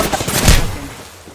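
Gunfire in a video game shootout: a loud, close burst of several rapid shots peaking in one heavy crack, then a fading rumble, with no talk over it.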